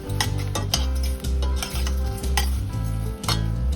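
A sauce cooking in a pan is stirred, with a spoon scraping and clinking against the pan in steady repeated strokes over a low sizzle, close and fairly loud.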